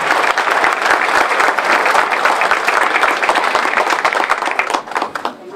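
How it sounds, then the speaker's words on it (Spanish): A crowd at an Independence Day event inside a prison gives a loud, close, sustained applause for the inmates, with individual claps audible and tapering slightly at the end. "Que se escuche ese aplauso porque esto representa a todos los internos"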